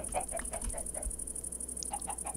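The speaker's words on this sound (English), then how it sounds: "Come on, chickens." Minecraft chickens cluck in soft, repeated bursts over a steady background hum and a constant high whine, with no one speaking.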